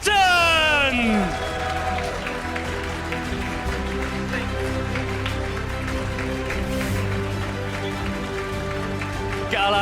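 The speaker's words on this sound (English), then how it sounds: "give me some noise for Galax Bolton!" A crowd at the Pokémon Stockholm Regional Championships cheers and applauds loudly after a PA announcer, the noise holding steady in a large hall.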